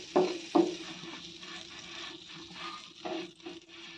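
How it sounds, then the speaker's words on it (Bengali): Bread with Cadbury being turned in butter in a frying pan: a soft sizzle runs throughout, with a few knocks and scrapes from the turning utensil, close and fairly quiet. "বাটারটা দিয়ে ঘুরিয়ে ঘুরিয়ে এটা ভেজে নেব।"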